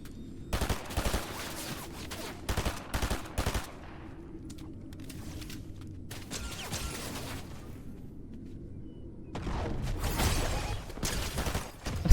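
Rapid bursts of gunfire crack out in Fortnite, clustered volleys separated by quieter stretches, then a denser run of shots near the end, loud and close with no talking.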